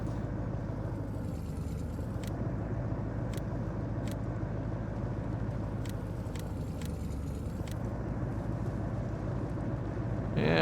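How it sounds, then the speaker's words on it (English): A truck driving in Farming Simulator 19, heard as a steady low engine drone with continuous rumble throughout, and a few short clicks over it. "this truck seems to drive much better than the other one did"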